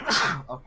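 A single quick sneeze, fairly close and moderately loud, followed by a brief spoken word.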